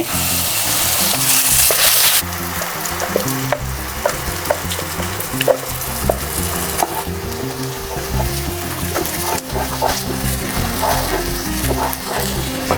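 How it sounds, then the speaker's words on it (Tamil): Spices tempering and a ground paste frying in hot oil for Mughlai egg korma give a steady close sizzle, louder at first, then crackling on with occasional stirring scrapes. "இந்த தாளிப்பெல்லாம் போட்டு நல்லா கொஞ்சம் சிவந்து வந்ததும் நாம் அரைச்ச கலவைகளை இதோட சேர்த்துக்கலாங்க"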